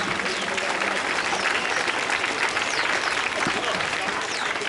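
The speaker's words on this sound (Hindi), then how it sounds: "तालियों से स्वागत करेंगे" A crowd at a women's police passing-out ceremony claps to welcome school teachers, a steady, loud burst of applause running without pause from start to finish.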